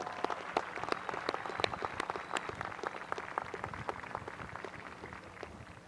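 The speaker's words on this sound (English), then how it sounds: "So you all deserve a big round of applause for all that you have done in helping them get here tonight." Graduation audience applauding in a hall, a steady wash of many hands clapping with sharp individual claps standing out, moderately distant and gradually thinning toward the end.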